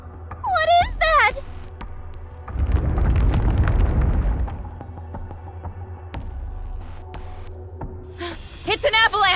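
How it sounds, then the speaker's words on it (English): Avalanche in Goddess of Victory: Nikke, a loud deep roaring rumble that swells and lasts a couple of seconds, then fades into low sustained noise, with chirpy synthetic effects and voices before and after. "It's an avalanche!"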